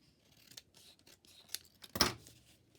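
Scissors snipping through paper ephemera for a handmade journal, a few quiet cuts building to one louder, sharper snip near the end, close and alone with no talking.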